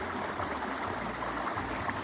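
A stream flows in a continuous, fairly loud rushing wash, steady throughout with no voices.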